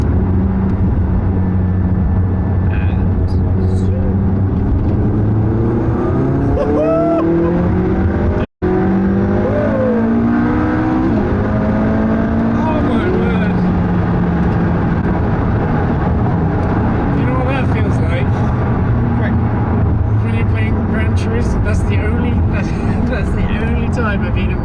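A McLaren 675LT launches under launch control, its engine roaring and climbing through rising pitch sweeps in a loud, continuous cabin sound, while people talk and exclaim over the acceleration.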